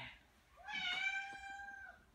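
A single drawn-out cat meow, rising and then falling in pitch, close and fairly clear against a quiet background.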